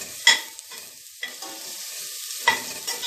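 Hot popcorn being tossed with grated rumi cheese and chili, a few distinct stirring scrapes and rustles at intervals over a faint sizzle, nearby and with no talking.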